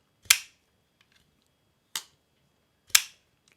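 A Shirogorov Custom Division F3 pocketknife with a push-button action, its blade snapping open and shut three times in crisp, sharp clicks with pauses of about a second between them, close and clear against silence.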